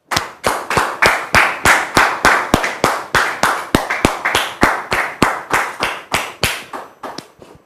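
A studio audience claps to welcome a guest onto a television talk show, with steady, sharp, rhythmic handclaps repeating evenly for several seconds, close and loud, with no talk.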